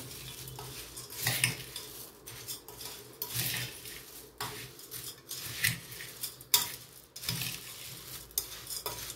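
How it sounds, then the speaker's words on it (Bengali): Jhal muri, a Kolkata street snack of puffed rice with potato, chickpeas, chanachur, green chili and raw mustard oil, being tossed and mixed in a metal bowl, repeated scraping, rattling strokes coming in quick bursts, close and fairly soft. "এবার মিক্স করছি।"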